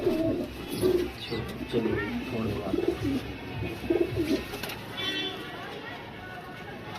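An old pet pigeon coos in low, soft, repeated throaty calls while being handled for a vaccination, with people talking nearby over a steady background hum.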